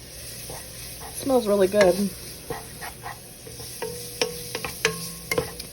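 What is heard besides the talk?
stirring food in a pot with a spoon to coat it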